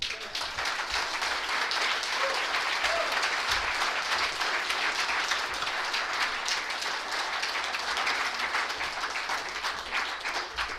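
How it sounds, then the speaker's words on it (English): Audience at an evening talk giving a speaker a round of applause, full sustained clapping from a room of people, steady and loud for the whole stretch. "Let's give Mark another round of applause"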